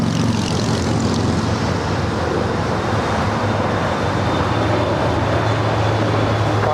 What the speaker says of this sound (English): the Japan Airlines Dreamliner heading up to the north side